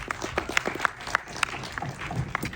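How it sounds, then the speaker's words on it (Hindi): Audience applause at the Border 2 teaser launch event, a dense, steady patter of many hands clapping with some crowd noise mixed in, continuing throughout at moderate loudness. "एक बार जोरदार ताली चाहिए"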